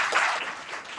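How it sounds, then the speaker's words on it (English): Brief burst of audience applause at a public talk event, a short dense patch of clapping with no clear beginning or end. "all of us give a round of applause for Andy for opening the doors."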